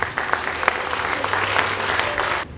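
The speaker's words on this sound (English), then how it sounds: "a round of applause to Mr. Gerardo Borromeo." A round of applause from guests at an anniversary celebration in a Manila hotel venue, steady crowd clapping that fades out abruptly at the end.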